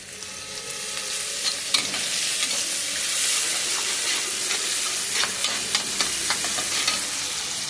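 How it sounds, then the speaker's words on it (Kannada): Masala frying and being stirred for an ivy gourd (tondekai) gravy, a steady close sizzle with repeated scraping stir clicks throughout, no talking. "ಮಸಾಲ ಒಟ್ಟಿಗೆ ಫ್ರೈ ಆಗಲಿ"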